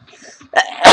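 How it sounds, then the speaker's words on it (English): A single sharp sneeze bursts out loud and close at the end, just after a quick breathy intake. "sneeze"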